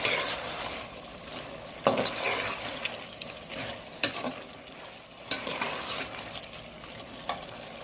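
Fried potatoes with red chilli being stirred in a pan, a continuous sizzle broken by several sharp spatula scrapes and knocks against the metal, close and without speech.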